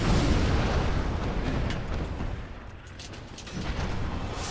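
Fire pyromancy attack in Dark Souls, with a loud, dense roaring burst of flame and explosive rumble that dips briefly before swelling again near the end.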